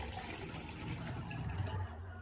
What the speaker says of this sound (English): I'm going to pour this into the cylinder through the funnel.